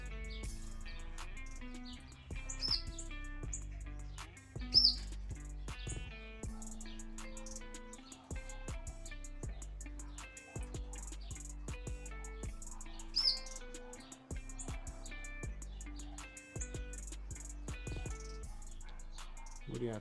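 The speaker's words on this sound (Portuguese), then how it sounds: "E esse aqui são todos os meus pássaros." Caged wild Brazilian songbirds, including papa-capim, kept in a large aviary, chirp and trill continuously, with overlapping high tweets and calls from several birds at moderate distance and occasional louder close chirps.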